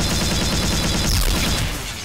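Hornet alternate-fire explosions in Garry's Mod, a loud, dense burst of blasts and crackling detonations that fills the whole two seconds, with no talking.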